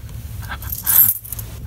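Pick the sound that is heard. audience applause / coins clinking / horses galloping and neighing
coins clinking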